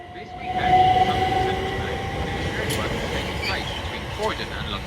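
Class 377 electric multiple unit trains at Horsham station on the Dorking route, a steady rumble of the passing train with a tonal whine and rail noise throughout, voices faintly under it.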